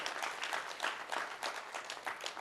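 Audience applause welcoming Baloch leader Mir Yar Khan at a memorial lecture event, a dense, steady wash of many clapping hands at moderate distance with no voices on top.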